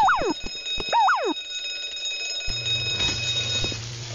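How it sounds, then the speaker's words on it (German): An alarm going off in the video game The Simpsons Hit & Run: two loud warbling electronic siren sweeps with sharp beeps, then a lower steady buzzing tone carrying on alone. "Wir haben den Alarm ausgelöst."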